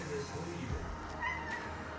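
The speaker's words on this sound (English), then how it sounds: "The cats are going nuts." Cats meow at a household during meal prep, with short pitched calls over a low background hum and some noise, fairly close.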